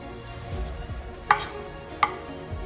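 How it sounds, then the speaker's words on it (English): A knife chops through a tomato on a cutting board, with two distinct sharp chopping impacts spaced under a second apart against a quiet kitchen background. "I usually cut it in half, then in quarter."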